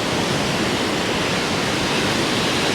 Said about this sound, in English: It's quite a lot of surf actually.